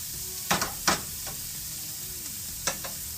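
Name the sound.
stirring ground big game meat frying in a pan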